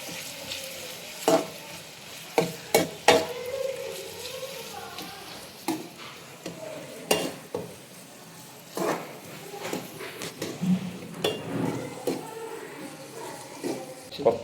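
Curry leaves sautéing in a hot pan for a fish curry, with soft sizzling broken by sharp clinks and scrapes of a spoon stirring against the metal, close by and without speech.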